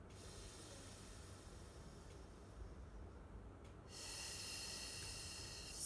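A person does Pilates breathing, keeping the core engaged while the ribs expand. Soft, faint breaths sound up close, then a louder, steadier hissing exhale rises near the end.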